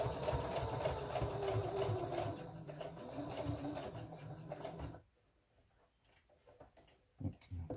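A sewing machine stitches all along the edge of a paper-and-fabric tart bag in a steady, close, rapid mechanical run that cuts off after about five seconds, leaving near-silence broken by a few small handling knocks.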